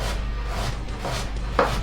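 A knife slicing finely through vegetables on a chopping board, a few soft quick cuts close up, with no talk.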